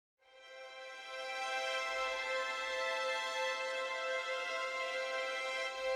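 A sampled string section plays the Gypsy Longs patch from Spitfire Audio's Albion V, a light, icy held chord that fades in quickly and sustains evenly, with faint low rumble underneath.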